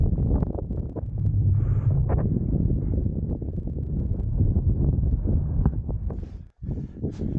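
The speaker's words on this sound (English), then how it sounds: "the wind picked up" Strong, steady wind buffets the microphone on an exposed mountain ridge along an alpine trail, a continuous low roar that barely lets up for the whole stretch before briefly dropping out near the end.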